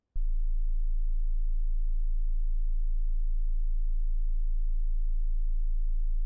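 A pure 27.5 hertz low A sine tone, a steady deep hum that starts abruptly with a faint click and holds at constant loudness for several seconds, alone with no talking.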